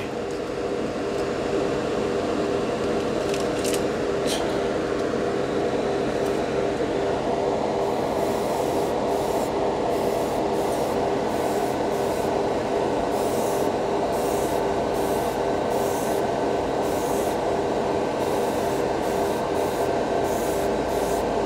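An airbrush sprays Dspiae metal color lacquer paint, a continuous loud hiss of compressed air close by that runs unbroken, with intermittent sharper bursts layered on top in the second half.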